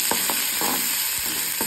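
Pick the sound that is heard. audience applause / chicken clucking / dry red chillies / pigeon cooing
dry red chillies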